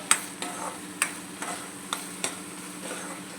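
Red chilli, coriander-cumin and turmeric powders are stirred into frying oil with regular spoon scrapes and taps over a soft sizzle, about eight close strokes, no talk.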